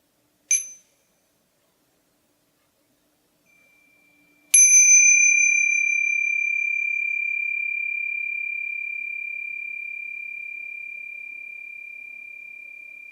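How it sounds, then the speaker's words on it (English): A single clear meditation bell strike rings out and sustains, slowly fading over many seconds in an otherwise quiet space, after a brief faint tap. "One last use of the bell."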